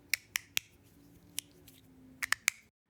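Sharp, dry clicks from a Maglabs magnetic fidget slider by Magnus, snapping in an uneven sequence: three quick clicks, a lone one, then a tight cluster near the end, close and quiet with no talking.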